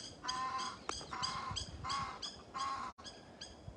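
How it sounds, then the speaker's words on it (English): Geese call repeatedly at moderate distance, a series of honking cries with short gaps between bursts, set over light outdoor background noise. "These are not ducks. I call them ducks again by mistake. They're geese."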